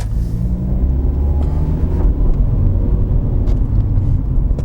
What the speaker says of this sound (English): You can see that I'm fairly aggressive on the throttle. I'm getting it right up to 3 grand.